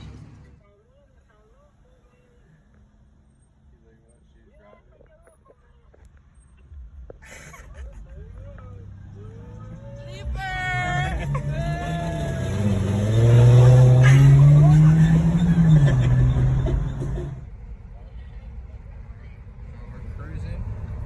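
A right-hand-drive Nissan 240SX Silvia on a tow strap behind another vehicle, quiet at first, then engine revving that rises into a loud, sustained drone and eases off, with people talking under it.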